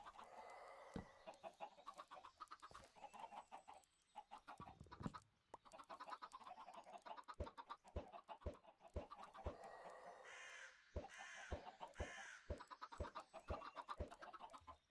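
Minecraft chickens cluck in a busy cluster of short, repeated calls, close and fairly loud, with game clicks and taps mixed in and no voice over them.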